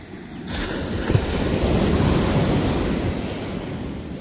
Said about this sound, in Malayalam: അടിച്ചു വരുന്ന തിരമാല കരയിലേക്ക് തള്ളിക്കയറണയാണ്